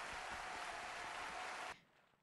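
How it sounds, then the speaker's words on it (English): A crowd cheering sound effect, played as a dense, loud wash of cheering and clapping that holds steady for almost two seconds before cutting off abruptly into quiet. "I'm going to do a clap. Crowd. Cheering. Crowd cheering."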